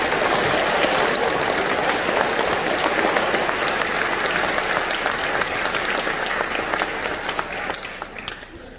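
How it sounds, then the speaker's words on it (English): A large audience at an 8th grade recognition ceremony breaks into loud, sustained applause that fills the room and tapers slightly near the end. "Let's give everybody a round of applause."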